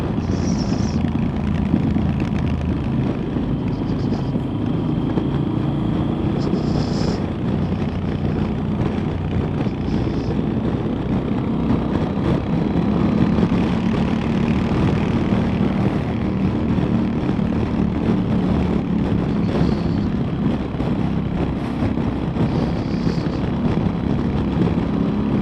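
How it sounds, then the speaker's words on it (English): A Yamaha XT1200Z Super Tenere motorcycle exhaust drones steadily while riding on a Scottish country road, a continuous low engine rumble mixed with wind noise and no clear revving peaks. "And I can hear this exhaust."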